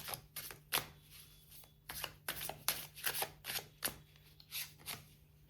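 Tarot cards shuffled and drawn by hand, a run of quick crisp riffling snaps and slides in uneven bursts, close and fairly quiet over a low steady hum.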